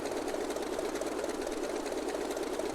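The engine of a Grumman F3F aircraft runs at about 1800 RPM during engine checks, a steady, even droning hum that holds constant throughout and sounds somewhat distant, with no talk.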